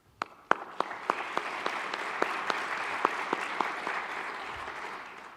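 An audience at a Yom HaShoah program applauds, sharp individual claps popping out at first before settling into steady, sustained clapping from a sizable crowd.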